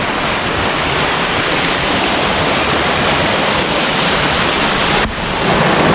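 A rain-fed stream on the path to a waterfall at Wat Khao Channgok in Thailand rushes in a loud, steady, broadband wash close by, without a break.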